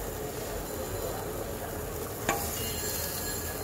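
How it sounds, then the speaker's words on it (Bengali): Fried bele fish slipped into a pot of boiling gravy, a steady bubbling hiss with one soft splash partway through, close and fairly quiet with no talking. "এই দিয়ে দিলাম মাছগুলি।"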